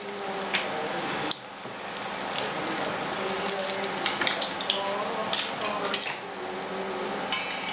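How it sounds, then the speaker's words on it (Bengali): Battered fish deep-frying in hot oil, a steady dense sizzle with crackling pops and occasional sharper spatters throughout, close and continuous, with no talking. "ডুবাই এটাকে ডুবো তেলে ভাজতে হবে, তারপর এটাকে ভাজতে হবে।"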